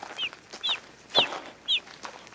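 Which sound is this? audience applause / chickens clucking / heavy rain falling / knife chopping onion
chickens clucking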